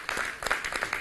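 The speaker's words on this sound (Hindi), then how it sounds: "अर्जुन जी के लिए तालियां हो जानी चाहिए जोरदार से" Brief burst of audience clapping for a poet at an Independence Day patriotic poetry programme, a quick scattered round of claps lasting about a second.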